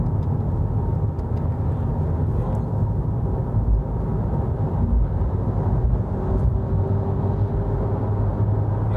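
A Citroen Berlingo Multispace engine pulls steadily under acceleration, a continuous loud low drone with road rumble heard from inside the cabin, no speech over it.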